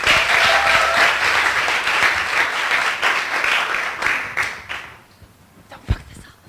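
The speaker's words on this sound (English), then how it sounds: "Big round of applause for Doreen." An audience applauds Doreen Toutikian at a FuckUp Nights event in Beirut, with dense, steady clapping that fades out over the last couple of seconds, leaving a single sharp clap near the end.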